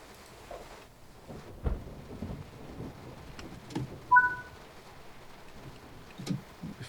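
Thunder rolling in the train-driving game Train Sim World on the Fife Circle Line, faint distant rumbles with rain and a few brief bird or dog sounds, low and intermittent.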